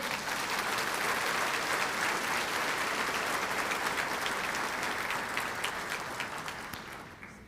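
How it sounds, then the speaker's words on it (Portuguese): Church congregation applauding during a Portuguese sermon on generosity, a sustained, dense wash of clapping that holds steady for most of the stretch and then slowly fades toward the end. "Você pode dar uma salva de palmas para Ele?"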